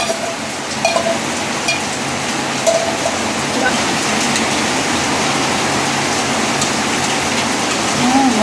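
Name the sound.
heavy rain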